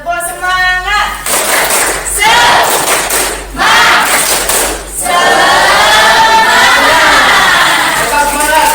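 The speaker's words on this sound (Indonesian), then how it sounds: "Tepuk semangat." A classroom of children chants and claps in rhythmic bursts for a class spirit clap, loud and close, with shouting voices and short pauses between rounds.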